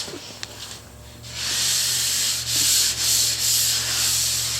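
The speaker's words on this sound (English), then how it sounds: "So you just keep on sanding until all that's gone." Sanding on a car body panel coated with guide coat: a loud, close, steady rasping hiss that starts after a quiet moment and runs on in long, even strokes with brief dips.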